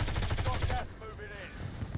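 Gunfire in the video game Black Ops Royale, a rapid burst of automatic shots up close for under a second, then quieter game sounds with a voice in the background.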